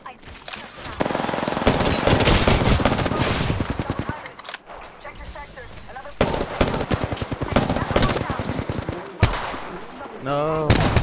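Rapid automatic gunfire bursts from an Apex Legends firefight, loud and dense with short gaps between volleys, while a player talks over the shooting.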